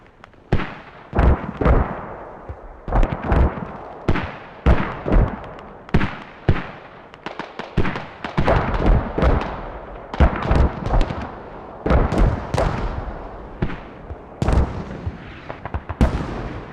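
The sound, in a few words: mortar fire in the video game Squad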